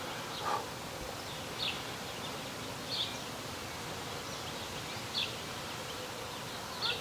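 Honeybees at newly set-up hives make a soft, continuous buzzing hum, with brief brighter buzzes as individual bees fly close at roughly regular intervals.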